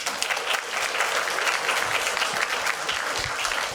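Audience at a grant-writing workshop session bursts into steady, dense applause, close and loud for the whole stretch without talk.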